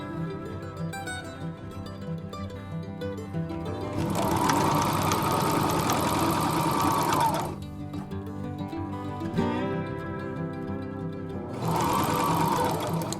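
A sewing machine runs in two bursts of steady, fast mechanical stitching, with quieter pauses and handling noise in between.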